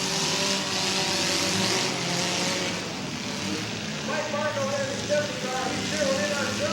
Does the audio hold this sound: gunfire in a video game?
no